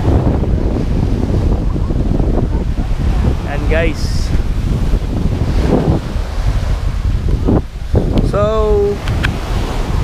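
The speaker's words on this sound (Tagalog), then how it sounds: "Medyo maalon yung dagat natin ngayon." Rough sea off the coast roars with a constant heavy wash of waves and buffeting wind on the microphone, loud and continuous, while someone speaks briefly over it.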